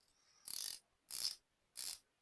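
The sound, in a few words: unidirectional 120-click dive watch bezel being turned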